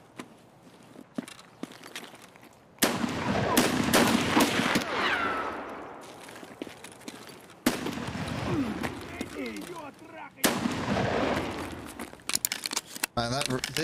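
Loud shotgun blasts firing buckshot in Escape From Tarkov, about four heavy reports spaced a few seconds apart, each followed by a roaring tail, with someone talking over the action.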